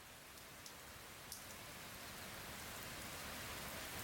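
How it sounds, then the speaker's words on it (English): Heavy rain pours steadily in a dense, even hiss, with a few louder drops tapping close by. "This is raining hard again."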